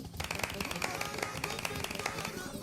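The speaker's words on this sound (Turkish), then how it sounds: "Herkes alkış yapsın. Herkes alkış yapsın." Dense, rapid scattered clapping from a class in a Roblox classroom game, quiet overall with a faint voice underneath.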